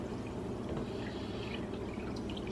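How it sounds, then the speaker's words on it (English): Fruit punch mixed with V8 Splash fizzes steadily, a continuous close soft hiss and crackle of carbonation with faint liquid drips, without pause and with no talking. "Oh, this is so good, and you can hear the fizzle."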